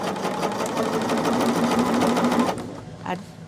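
A sewing machine runs steadily in a home sewing room with a fast, even mechanical whir, then stops after about two and a half seconds, while someone talks over it.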